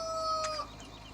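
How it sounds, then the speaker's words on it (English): Rooster crowing in a farming video game, a short, bright crow lasting about half a second against faint background ambience. "There's Rooster. He's already setting himself to the chickens."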